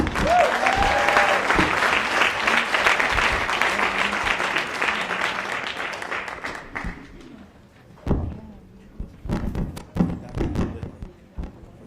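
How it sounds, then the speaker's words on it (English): Audience applause at a conference on ending the incarceration of women and girls, loud sustained clapping that gradually thins, then gives way to a few thumps and handling knocks. "Let's give them a round of applause."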